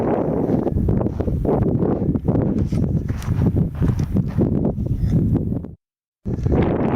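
Wind buffets the microphone in loud, rumbling gusts throughout, outdoors beside a railroad track, broken briefly by a moment of silence near the end.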